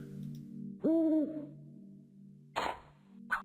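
An owl hoots in the puzzle video game Rusty Lake Paradise: one clear, loud, wavering hoot lasting about half a second, followed by two brief, sharp game sound effects over a low background hum.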